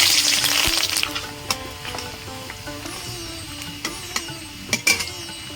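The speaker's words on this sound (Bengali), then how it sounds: "লঙ্কাগুলো ভাজা হয়ে গেছে তুলে নেব রসুন কুচি দেবো" Dried red chillies, then chopped garlic, fry in hot mustard oil in a pan, a soft crackling sizzle punctuated by sharp clicks of a utensil stirring against the pan, close and without talk.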